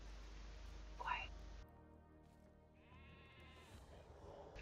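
Sheep bleat in a video game, giving a faint, wavering cry partway through under quiet, whispery talk and low game noise.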